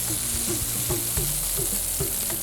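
Millet roasting and browning in a pan over a gas flame, a continuous close sizzle broken by repeated scraping stir strokes, loud and alone without any talk.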